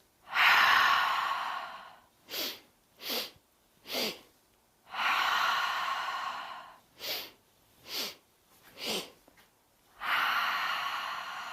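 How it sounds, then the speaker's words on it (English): During a chair yoga breath of joy exercise, someone takes sets of three sharp, quick inhales followed by one long, forceful exhale. The pattern repeats about three times, close and clear with no talking. "Now we're going to inhale, inhale, inhale, exhale."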